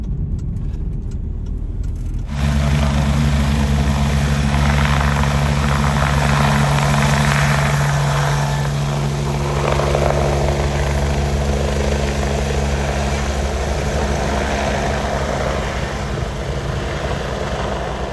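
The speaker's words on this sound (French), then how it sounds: "On est tombé par hasard sur l'hélicoptère de la Rega" Rega rescue helicopter in Switzerland starting up nearby, a loud steady rotor and turbine roar with strong low tonal hum that kicks in abruptly after a quiet opening and holds constant to the end.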